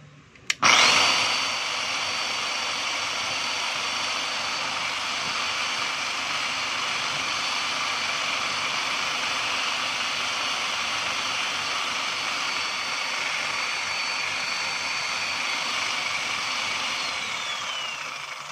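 A DeWalt D25961 16 kg jack hammer, checked for worn carbon brushes, clicks on and snaps straight into a loud, steady, high-pitched motor whine that runs unbroken and close for the rest of the clip, with no talk.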